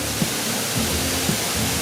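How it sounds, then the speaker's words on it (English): Roaring tidal waterfall at Hopewell Rocks in the Bay of Fundy, a steady broadband rush filling the whole clip with no breaks, loud and close. "a heckin' big, awesome waterfall"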